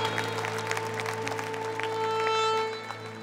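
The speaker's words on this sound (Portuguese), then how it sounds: "Aplaudamos o nosso Deus e o nosso Padre Jonas" Audience applause at a Catholic music show in Brazil, heard as steady clapping from a crowd over sustained organ-like tones, swelling slightly toward the end.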